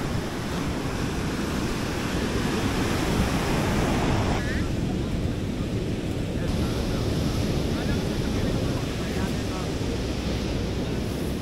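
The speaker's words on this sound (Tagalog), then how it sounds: "Ganda ang alon." Ocean surf at Baler washes in continuously and loudly, mixed with heavy rushing wind across the microphone and no pauses throughout.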